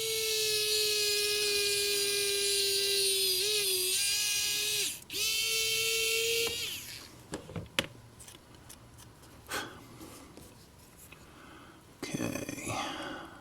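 A small high-pitched drill whines steadily while boring a wire hole during a DCC decoder install in a Proto2K BL2 model locomotive, dipping in pitch under load, then stopping, followed by faint clicks and handling noises.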